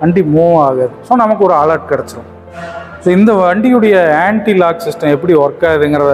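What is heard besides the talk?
No everyday noise stands out behind the speech.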